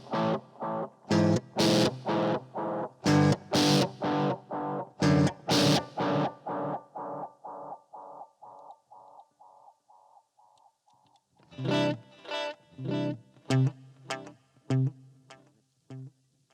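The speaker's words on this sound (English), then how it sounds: "a distortion delay, where my initial signal is pretty much my amp sound, and then the repeats are going to have the distortion on them" Electric guitar played through a Vox DelayLab pedal set to distortion delay: a burst of loud strummed chords followed by a long train of repeating echoes fading steadily away, then a fresh run of choppy distorted chords, with no talking.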